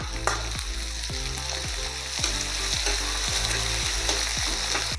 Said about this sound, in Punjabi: ਪਿਆਜ਼ ਨੂੰ ਆਪਾਂ ਹਲਕਾ ਜਿਹਾ ਭੁੰਨ ਲਿਆਗਾ